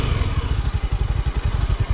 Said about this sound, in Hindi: अभी बस बाइक घुमा के निकलते हैं नीचे को